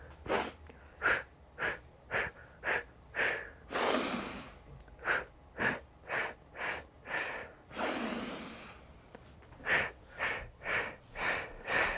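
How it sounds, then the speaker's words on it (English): A person demonstrates a breathing pattern: a long sniff in, then a run of short sharp puffs out, repeated in a steady rhythm, close and clear. "it's a sniff in, big one, long, and then 5 puffs out"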